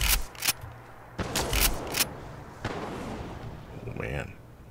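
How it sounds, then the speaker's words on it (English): Fallout 4 X12 Plasmacaster underbarrel alternate fire, with sharp repeated blasts and bursts followed by a longer rumbling boom and a fading whine. "Here's the underbarrel weapon,"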